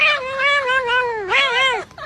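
A cat gives two long, loud, drawn-out meows close by, each wavering and rising then falling in a caterwauling, almost talking tone, with a brief pause between them and no other voices.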